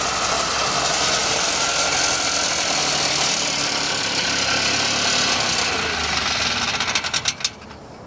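An AMF Harley Davidson three-wheel golf cart engine runs with a steady, loud mid-pitched drone, heard close, with a few rapid popping pulses near the end.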